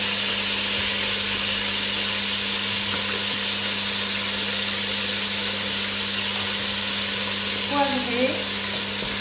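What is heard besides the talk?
pork and vegetables sizzling while roasting in a pan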